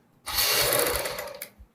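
A sewing machine runs a straight line of stitching along a folded one-inch strip on the front panel of a girls' top, a single steady mechanical whir lasting just over a second before stopping.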